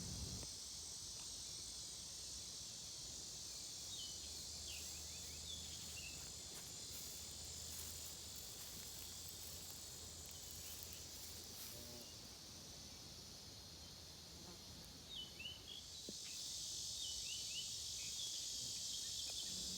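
A loud, steady high-pitched insect drone of cicadas fills the whole stretch, swelling even louder near the end, with faint outdoor background underneath.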